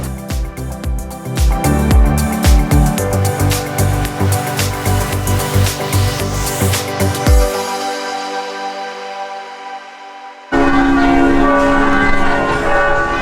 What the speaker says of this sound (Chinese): 湖边的钟声开始响起来了